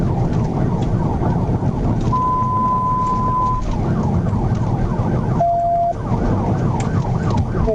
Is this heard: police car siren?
yes